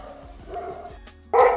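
A dog barking outdoors beside a vegetable garden, a quick run of sharp close barks and yips followed by one louder bark at the end, with no talk over it.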